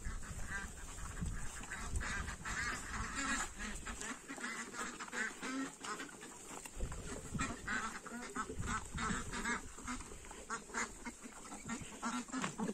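Farmyard ducks, including muscovy ducks, quack repeatedly in an irregular, overlapping chorus at close range, with ambient yard noise throughout.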